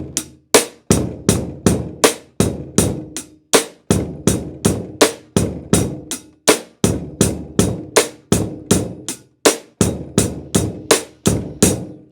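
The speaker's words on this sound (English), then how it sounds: "but they call it a cross stick rim shot sound." A drum beat of cross-stick rim shots over hi-hat and bass drum, played in a steady, even rhythm. The hits are crisp and close, with no talking.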